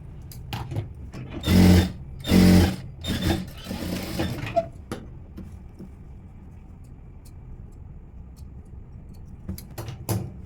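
Sewing machine stitching a princess cut blouse, a few short loud whirring bursts early on, then quieter scattered clicks and a brief whir near the end, with no speech.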